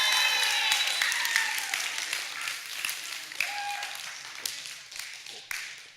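A church congregation claps and cheers after a baptism during a worship service, a bright burst of applause with a few whoops that gradually thins out over several seconds.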